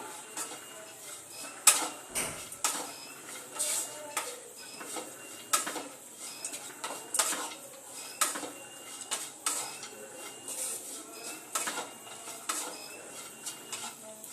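A spoon scrapes and clinks against a metal pan while chicken samosa filling is stirred with shahi garam masala powder, giving repeated sharp taps and scrapes in an uneven rhythm close by, with no talking.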